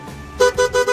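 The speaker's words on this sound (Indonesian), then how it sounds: "di sini klakson juga sudah di-upgrade ya guys, menggunakan klakson keong double." An upgraded dual snail horn on a Honda Vario 125/150 scooter blasts three short, loud honks in quick succession, close to the microphone.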